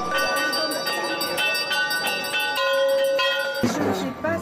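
A priest rings a ritual hand bell at a Kathmandu shrine, a rapid, continuous metallic ringing with bright sustained overtones, ending in a burst of busier noise.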